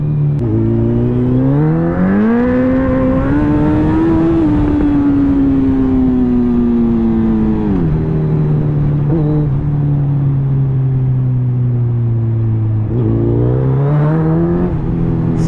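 A superbike fitted with an Akrapovic exhaust revs and accelerates loudly and close by. The engine pitch climbs, holds, drops and then rises again in sweeping surges.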